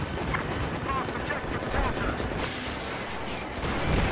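Gunfire and explosions from a Battlefield game form a dense, continuous rumble of shots at moderate volume, with players chatting over it.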